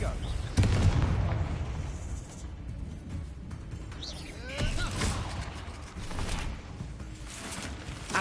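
Confringo spell blasts in Hogwarts Legacy, several booming explosive bursts among combat noise, with a voice calling spell names over them.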